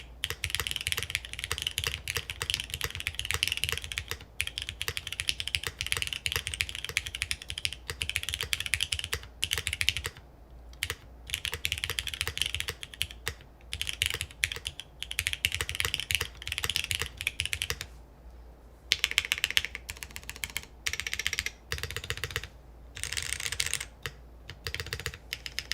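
Keystrokes clatter on a NEO75 mechanical keyboard with a thunky spacebar, a close, continuous stream of rapid clicks and deeper thocks with brief pauses between bursts, no voices.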